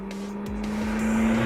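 A McLaren MP4-12C sports car runs on a track, its engine giving a steady droning hum that builds slightly in loudness, heard from inside or close by with no talking.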